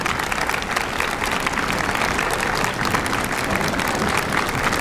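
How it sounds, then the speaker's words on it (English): A large commencement crowd of graduates applauds families and friends in a sustained, dense wash of clapping that holds steady and fairly loud throughout. "graduates, would you please give them a great round of applause"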